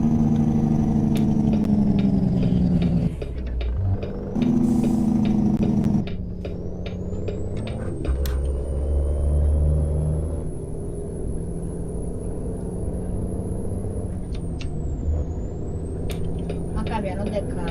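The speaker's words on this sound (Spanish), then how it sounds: "les voy a dejar el freno de motor de ese carro" An American-style truck's engine brake rumbles loud and steady, with deep surging shifts and a continuous low drone over road noise.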